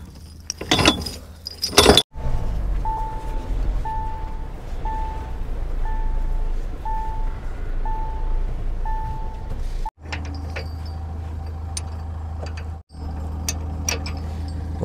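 A metal chain is fastened to a car's main rod while the car sits stuck in sand. Heavy chain clanks and rattles open the sound, followed by a steady low vehicle drone with a regularly repeating beep.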